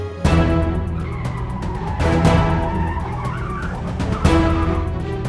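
A car pulls up and skids, its tires squealing sharply, followed by repeated loud jolts and engine noise at close range.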